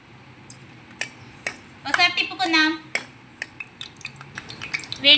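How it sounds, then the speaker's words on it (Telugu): Crushed raw garlic goes into hot cooking oil in a pan for Andhra-style sambar, giving soft sizzling with metal and utensil clinks, while a voice talks over it. "వెల్లుల్లి కచ్చా పచ్చగా దంచి ఆయిల్లో వేద్దాం ఫ్రెండ్స్ ఆయిల్లో వేస్తున్నాను ఫ్రెండ్స్ వెల్లుల్లి"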